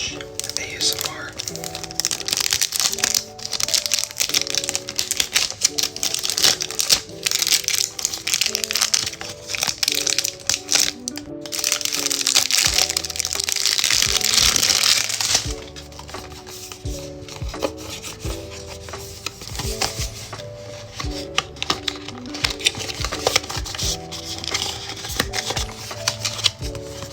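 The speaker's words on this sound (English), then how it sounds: "So let's unbox this together." Tom Ford Beau de Jour fragrance packaging being unboxed up close, with steady crinkling, rubbing and crushing of cardboard and wrapping that swells into a louder rustling burst midway, while music plays underneath throughout.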